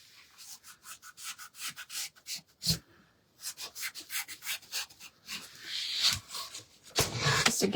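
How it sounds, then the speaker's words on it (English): A sanding sponge rubs back and forth over painted wood on a rustic flag project, close, rhythmic scratchy strokes in short repeated bursts with brief pauses and a few sharper knocks. "And I may take some of it off with my sanding sponge."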